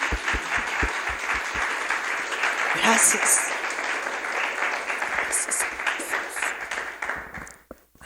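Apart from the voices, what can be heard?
congregation applauding in church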